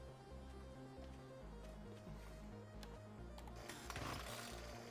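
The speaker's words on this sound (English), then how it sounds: "They're attracted to the sound of the chainsaw." A chainsaw drones in the video game 7 Days to Die: a steady buzzing engine whine that swells and dips, fairly quiet and continuous throughout.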